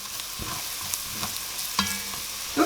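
Garlic powder and smoked paprika fry in a pot with a steady crackling sizzle, interrupted by occasional stirring scrapes and a clunk of a utensil near the end.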